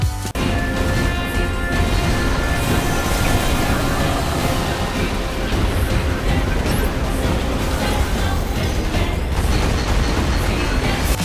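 Explosions fill a chaotic battle in Nier: Automata, dense booming blasts and crashes layered over driving game music, loud and continuous throughout.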